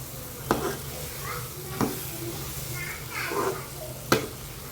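Chili powder being stirred into garlic kuzhambu in a pan, with a soft continuous sizzle and several distinct scraping knocks of the spoon against the pan, close by.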